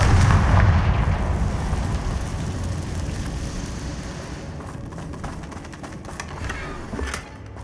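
A Confringo fire spell blast in Hogwarts Legacy sends out a heavy booming rumble that slowly dies away, followed by lighter crackles and a short late burst.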